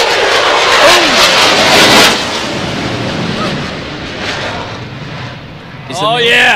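A military aircraft at the Mid-South air show thunders past close by, a loud sweeping roar that swells and fades with rumbling bursts, and people talk over it near the end.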